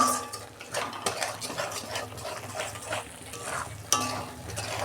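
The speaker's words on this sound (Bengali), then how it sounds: "এবার ভালো করে আমি কষে নেব মশলাটাকে 2 মিনিট।" Spice masala for stuffed snake gourd fries in a pan while a metal spoon stirs it, giving continuous close scraping and clinking against the pan over a soft sizzle.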